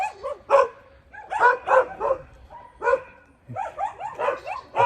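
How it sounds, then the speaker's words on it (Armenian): Dogs in an Armenian village bark in repeated bursts, several short yaps and woofs overlapping in irregular clusters, fairly close and loud with brief pauses between. "Սկսան հաչալ մենակ"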